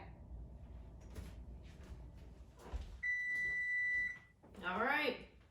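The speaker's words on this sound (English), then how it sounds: "that's my timer" A kitchen stove timer sounds a steady electronic alarm tone for about a second, close and fairly loud, against a quiet room with light handling noises; a voice is heard just afterward.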